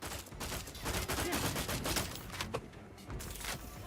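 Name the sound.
gunfire shooting a regeneration device, from video game The Outer Worlds 2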